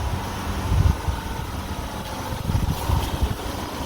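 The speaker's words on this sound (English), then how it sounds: "That is a small generator." Small generator engine running in Lagos, Nigeria, a continuous low rumbling idle with uneven throbbing pulses, fairly close and steady with no talk over it.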